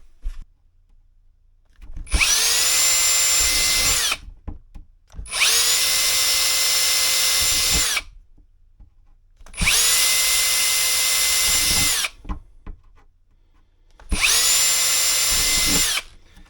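A power drill whirs at a steady, moderate speed in four bursts of about two seconds each, separated by short pauses, loud and close, while making a battery box.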